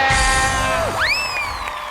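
Studio audience at a Chinese debate show cheers and whoops loudly in a continuous crowd roar, with a rising whistle-like sweep cutting through midway and the noise staying dense to the end.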